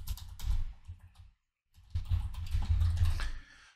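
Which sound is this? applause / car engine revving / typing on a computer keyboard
typing on a computer keyboard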